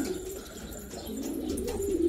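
Pigeons coo softly and steadily, a low murmuring warble that rises slightly toward the end, close by with no talk, from ordinary young birds in a loft.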